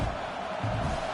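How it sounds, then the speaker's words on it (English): A college football stadium crowd at Michigan roars steadily through a third-down play, a dense continuous wall of noise that swells slightly near the end. "Decibels rising as the crowd gets behind this defense on third down."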